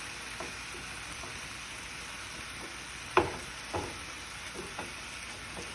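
Hamburger meat browning in a pan, broken up with a mix-and-chop tool: a quiet, steady sizzle of frying, with a few soft scraping and tapping strokes of the tool against the pan.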